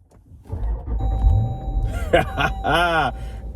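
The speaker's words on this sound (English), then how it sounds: "once I sit in this car and I press that start button" A Jeep SRT engine fires up from a push-button start, settling into a deep, steady rumble. A voice talks over the running engine in the second half.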